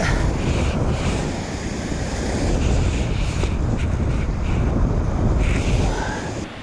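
Ocean waves wash steadily onto a deserted island shore in a southerly wind, a continuous loud roar of surf mixed with heavy wind buffeting the microphone.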